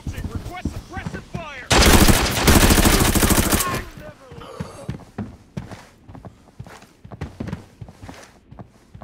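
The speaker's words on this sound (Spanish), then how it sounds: "Dispararon." Automatic gunfire in the video game Arena Breakout: a loud, dense two-second burst of rapid shots, followed by footsteps and scattered quieter shots and movement sounds.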